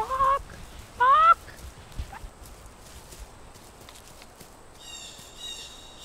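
A human voice imitates a chicken clucking in two short, loud bursts near the start, followed by quieter rustling, footsteps and faint chirps in the background.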